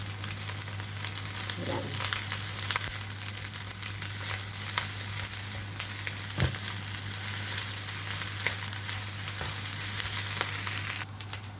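Fried rice frying in a pan, a continuous close sizzle with scattered crackles and spatula scrapes, a low steady hum underneath and a brief spoken word.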